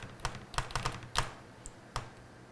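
Keys pressed on a computer keyboard while a streaming PC's BIOS is being reached after a Ryzen 2700X upgrade: about six separate clacky taps in an uneven rhythm, close and fairly quiet, with no talking.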